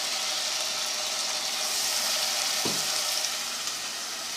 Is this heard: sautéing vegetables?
yes